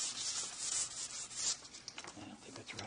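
Sandpaper rubs back and forth to strip paint from a metal rod, a close, rough scraping with irregular strokes that grows choppier toward the end.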